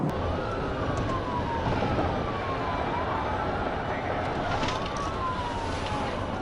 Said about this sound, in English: Officer began searching for the vehicle with lights and sirens activated.